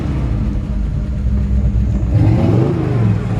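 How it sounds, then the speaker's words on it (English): The engine of a 1947 Buick Special rumbles nearby, then its pitch lifts as it is revved, a deep and mellow roar. "if you give it some gas, it sounds like a hot rod for sure"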